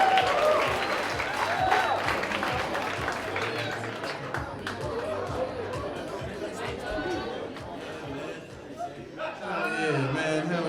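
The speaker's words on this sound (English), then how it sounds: "Michael Beavers, clap it up." Comedy club audience applauding and cheering for the next comic at a stand-up competition quarterfinal, a dense steady wash of clapping mixed with crowd chatter and whoops, with talking underneath.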